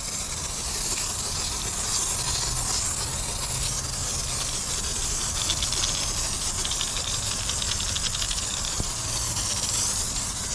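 A pressure foam sprayer gives a steady hiss while wheel cleaner is pressurized and applied, continuous and fairly loud across the whole stretch with no talking.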